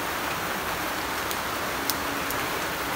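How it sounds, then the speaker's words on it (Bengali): Steady rain falls nonstop in rural Bangladesh after days of downpour, an even dense hiss with faint scattered drops and no voices. "আজকে 15 দিন ধরে বৃষ্টি তো এইভাবে নন স্টপ পরে থাকে"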